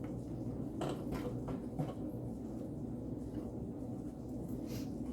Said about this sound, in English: The noise you hear is my wash machine.